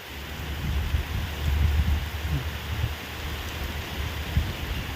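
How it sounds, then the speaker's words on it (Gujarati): Steady rain falls over a village in Botad, making a continuous dense hiss with a low rumble underneath and no voices. "પાછો ને વરસાદ ચાલુ થઈ ગયો"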